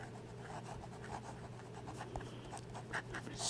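A Conklin fountain pen with a number 6 nib writes in a journal, a quiet, continuous scratching of nib across paper with small rhythmic strokes, close and soft, with no voices.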